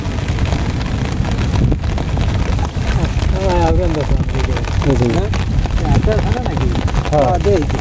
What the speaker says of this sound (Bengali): ঘন হারে বৃষ্টি আছে, মানে মুষলধারে বৃষ্টি